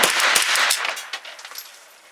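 Kalashnikov KR9 pistol firing Federal aluminum-case ammunition at a range, a rapid string of loud, close, sharp shots over the first second, then scattered fainter reports and echoes fading out.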